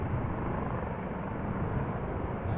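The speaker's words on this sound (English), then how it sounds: "Police helicopter taking off for patrol." A police helicopter takes off on patrol near Schiphol Airport, its steady rotor and engine roar loud and continuous throughout, with no voices over it.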